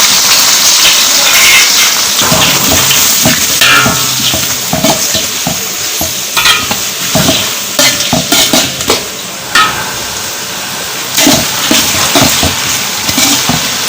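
About three-quarters of a kilo of chopped onions sautéing for mushroom biryani, a loud continuous sizzle and fry close by, broken by repeated scraping and clattering of a spoon stirring through the pan.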